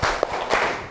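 A class performs a rhythmic focus clap, a couple of brief, sharp hand claps set apart by a short pause, close and moderately loud with no talking.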